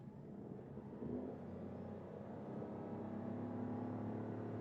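Toyota Aygo X Hybrid engine drone rising steadily as the car accelerates from 20 to 70 in power mode, a low continuous hum growing slightly louder and higher over several seconds.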